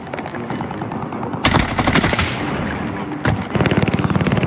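Automatic weapon fire in an online shooter video game, bursts of rapid shots starting around the middle and again near the end over a layer of background game noise, loud and close.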